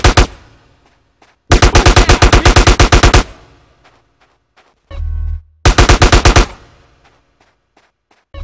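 Bursts of automatic gunfire in GTA San Andreas during a police shootout, two long rapid volleys loud and close, separated by a short low rumble and scattered single shots.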